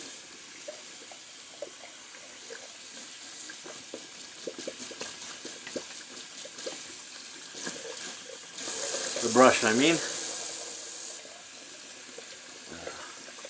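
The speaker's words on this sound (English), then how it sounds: "That's some hot water coming out of there." Hot water runs from a tap over a shaving brush being rinsed, a soft ongoing trickle that swells into a louder gush for a few seconds, with someone speaking intermittently.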